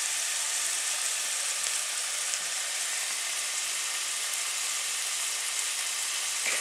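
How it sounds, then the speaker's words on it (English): Courgette and raisin chutney fries on a stovetop pan, giving a soft, steady sizzle and hiss that continues evenly throughout with no voices. "There is frying going on."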